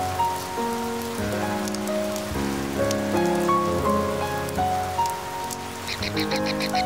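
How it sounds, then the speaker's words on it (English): Steady rain patters continuously on surfaces near a bird's nest, an even hiss running under gentle tonal music throughout. "After several days of rain in a row, getting food has become much more difficult for the parents."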